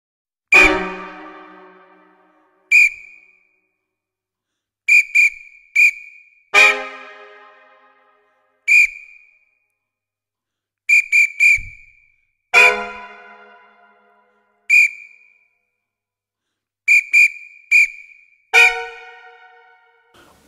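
Sharp whistle blasts form a rhythmic ostinato layer within a multi-layered drum-kit piece, sounding as short repeated bursts, some in quick pairs and triplets, between ringing tom and cymbal-like hits that decay through the bar.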